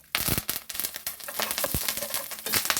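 Curry leaves dropped into hot oil in a pan over fried chillies, a Kerala home kitchen cooking jackfruit thoran; a sudden close, loud crackling sizzle with sharp pops that continues steadily.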